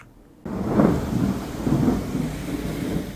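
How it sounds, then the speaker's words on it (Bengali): Heavy rain pours steadily over the city of Jeddah, Saudi Arabia, with deep rolling thunder rumbling through, starting abruptly after a brief silent moment. "সৌদি আরবের বাণিজ্যিক রাজধানী জেদ্দায় বৃষ্টি শুরু হয়েছে মুষলধারে"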